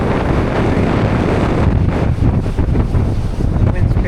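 Strong wind buffets the microphone on the surf and marsh at Fort Fisher, North Carolina, a loud steady roar with gusty rumble and no talk.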